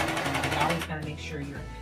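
A serger stitches the seam on stretchy leggings fabric, its motor running in a steady fast rhythmic whir that stops near the end, with a voice talking over it.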